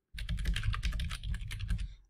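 Rapid, steady typing on a computer keyboard while editing text on a WordPress landing page, a close run of crisp key clicks lasting about two seconds.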